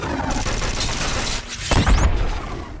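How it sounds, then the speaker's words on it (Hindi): Rapid gunfire from an action film scene, a dense continuous fusillade of loud shots with machine-gun bursts, followed by a heavy booming impact near the end. "वो बिना देखे इधर उधर की चीजों पर गोली चला रहा था"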